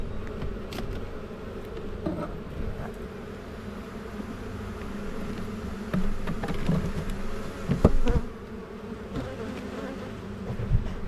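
A honeybee hive buzzes steadily during a mid-April inspection, a dense droning hum close by, with occasional louder swells as bees pass near, and no speech.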